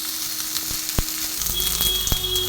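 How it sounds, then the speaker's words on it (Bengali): Tamarind-flavoured stalks dropped into hot oil with fried tempering spices, sizzling in a steady, loud hiss with a few sharp crackles and spatters, alone. "ফোড়নটা ভাজা হয়ে গেছিলো, আমি ডাঁটাগুলো ছেড়ে দিয়েছি।"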